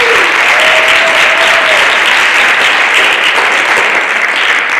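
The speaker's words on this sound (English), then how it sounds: "So can we give them a round of applause?" An auditorium audience at a community-safety forum at Chief Sealth applauds steadily for student volunteers, a dense, loud wash of clapping that holds evenly throughout.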